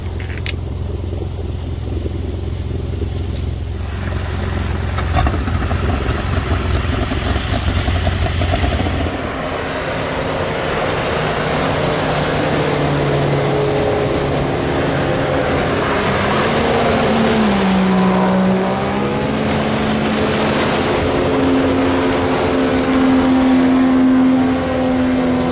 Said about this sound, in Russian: Греем моторы.